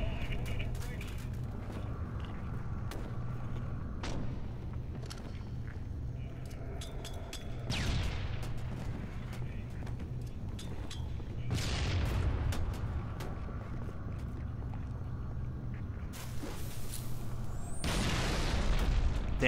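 Explosions of blown-up objects in the Halo 3 video game, several loud booming bursts around 8, 12 and 18 seconds over a constant game backdrop, with a person talking over them.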